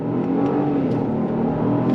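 A Genesis GV70 SUV accelerates on throttle, its engine note rising with a steady strained whir and rumble, loud and continuous, with no talk.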